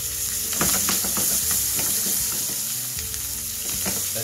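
Onion sizzles in melted butter in a pan, a steady close frying hiss broken by stirring scrapes and pops, with no talking.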